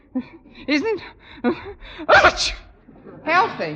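A woman's sneeze on an old 1951 radio comedy broadcast, a sharp burst in the middle of talk, with voices speaking before and after it.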